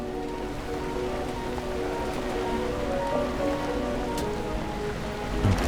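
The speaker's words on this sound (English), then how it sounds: "Proper rain." Steady rain falls in the video game Nobody Wants To Die, a dense even patter of drops on hard surfaces that continues without a break, with a faint thump near the end.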